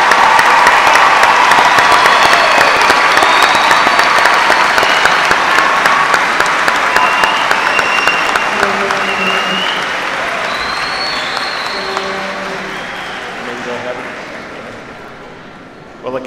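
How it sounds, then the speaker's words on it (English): Sustained audience applause for bachelor's degree graduates at a 2015 university commencement ceremony, a dense, steady wash of clapping with a few cheers that gradually fades over about sixteen seconds. "How about one more hand of applause for our graduates for Bachelor degree?"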